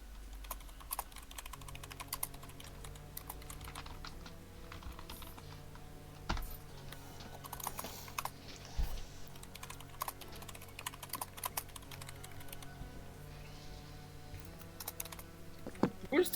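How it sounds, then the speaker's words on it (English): Rapid keyboard typing runs through the whole stretch, a steady patter of clicks layered over a constant background hum and tones during a Glory of Heracles game session, with no one talking. "I hear fierce typing in the chat."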